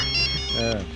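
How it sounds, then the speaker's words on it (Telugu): A phone ringtone in a Telugu comedy scene plays as a steady electronic melody of high, sustained tones, with a voice speaking over it partway through. "మామా, ప్రియాంక ఫోన్."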